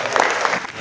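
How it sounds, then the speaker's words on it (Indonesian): An audience gives a brief burst of clapping after a speaker at a youth-and-democracy speaking event. The dense, close applause lasts under a second. "tepuk tangan."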